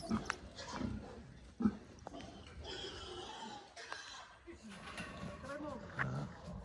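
Pigs grunt in a farm pen, with low snorts and squeals scattered through the clip, partly buried under people talking nearby.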